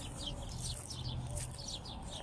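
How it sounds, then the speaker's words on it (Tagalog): Birds chirping overhead at Adiliya tower in Kuwait, repeated high twittering calls, faint and somewhat distant above a steady low background hum. "Yan po, tunog ng ibon. Nandito po sila sa ibabaw."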